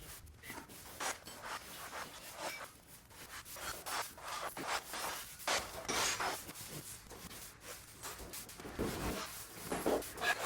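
A broom sweeps the dusty floor of a rental home under renovation, producing a steady run of close, scratchy brushing strokes that rise and fall in quick, uneven rhythm with no voices.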